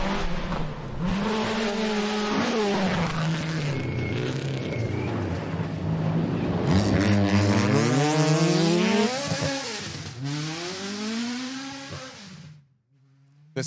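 A Ford Escort rally car driven by Frank Kelly on a forest stage, its engine revving hard and rising and falling through the gears, loud and close for most of the run before cutting away near the end.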